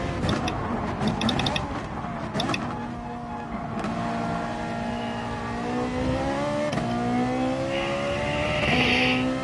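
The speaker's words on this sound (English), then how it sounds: "I'm pretty sure that's a Walkenhorst M3." Walkenhorst BMW M3 race car in a racing video game, its engine droning and rising through the gears as it pulls away, steady and fairly close, with brief tire and shifting noises early on.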